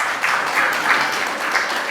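Steady audience applause from a crowd at a live onstage conversation event, continuous dense clapping at even loudness throughout with no one speaking.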